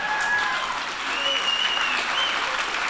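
A congregation applauding during a sermon, dense steady clapping with faint whoops and cheers mixed in, loud and continuous.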